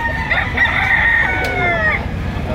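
A full stag rooster crows loudly and close at a busy poultry market, one long drawn-out call over a murmur of crowd noise.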